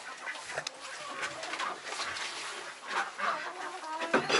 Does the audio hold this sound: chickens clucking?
yes